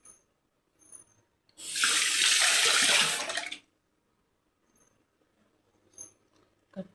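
Water gushes from a tap at a sink for about two seconds while washing, loud and close, preceded and followed by small clinks and handling sounds in an otherwise quiet room.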